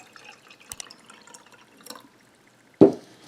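Warm water is poured into a small cup in one short splash near the end, after a few faint clicks and light drips, close and otherwise quiet.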